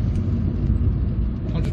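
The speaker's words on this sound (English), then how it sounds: "Just kind of shifting through the gears here" Engine of a 2011 Vauxhall Corsa VXR hot hatch pulling through the gears, a steady close low rumble filling the cabin without pause.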